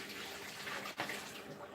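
Water poured out of a baking dish in a kitchen, a continuous quiet rushing splash with a brief dip midway.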